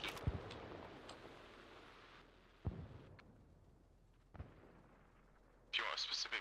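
Distant artillery booms in Arma Reforger: a few dull thumps spaced several seconds apart, the heaviest near the start, with quieter impacts in the middle and a brighter burst at the end over low background noise and faint voices.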